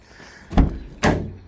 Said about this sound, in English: It has got the side loading door, as you can see there.